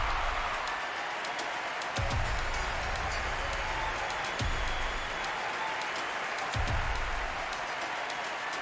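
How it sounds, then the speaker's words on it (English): A crowd at a women's wrestling event claps and cheers as a legendary wrestler makes her ring entrance, a steady broad wash of applause with a few louder thumps, heard at a moderate distance. "listen to the crowd giving up their adoration for the legend"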